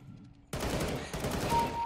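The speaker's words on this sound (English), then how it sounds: "I hear plenty of gunfire." Gunfire in Counter-Strike: Global Offensive erupts suddenly after a quiet moment, a dense loud burst of rapid shots that continues without a break to the end.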